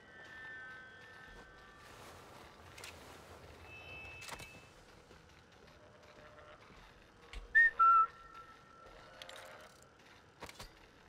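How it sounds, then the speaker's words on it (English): Whistling in the stealth shooter Sniper Elite 5 during co-op play, a few short thin tones standing out over quiet game ambience with faint mechanical clicks. "Is that me whistling or you whistling?"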